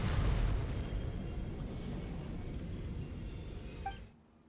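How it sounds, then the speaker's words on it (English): Explosion in Genshin Impact, a sustained roaring blast with a heavy low rumble that stays loud for several seconds, then cuts off abruptly into near silence. "You were all caught in the shockwave of the explosion"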